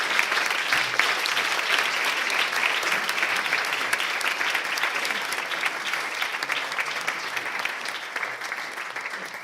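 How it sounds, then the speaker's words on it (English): An audience at a book presentation gives sustained applause to greet arriving speakers, a dense, steady roar of many hands clapping that carries on for nearly ten seconds and fades only slightly. "So let's greet them with an applause."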